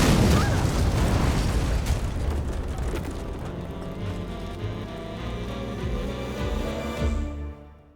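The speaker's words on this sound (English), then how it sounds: "I've never been in an actual explosion before." A loud, close explosion roars across the whole stretch, a dense rumbling blast with crackling debris and bursts that slowly fade and cut off at the end.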